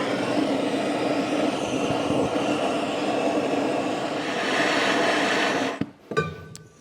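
A MAPP gas torch heats exhaust manifold bolts on an MGB, producing a steady, close, broadband roaring hiss that cuts off near the end, followed by a few clicks and clanks.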